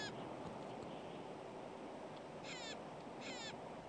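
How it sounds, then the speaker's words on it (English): A Clark's nutcracker in an evergreen forest gives two harsh, grating, crow-like calls, distant and brief, over a constant broadband wind-like background. "the Clark's nutcracker, to help with dispersing the seeds"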